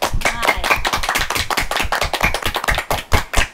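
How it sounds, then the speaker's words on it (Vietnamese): A classroom of children applauds a young girl with a quick, steady run of clapping that stays close and fairly loud throughout, with no talking. "Các con ơi, mình dành một tràng pháo tay cho bé sữa."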